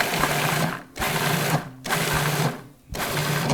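A food processor pulses fresh cranberries in three loud, steady bursts of whirring motor, each separated by a short pause before starting again, with no talking.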